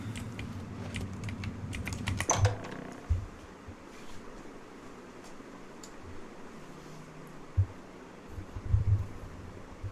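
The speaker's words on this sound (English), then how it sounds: "people are just going to hear me smash my keyboard" Computer keyboard keys struck hard during a game stream, a burst of rapid clacking taps followed by scattered heavy thumps and quieter clicks, close and mostly without talk.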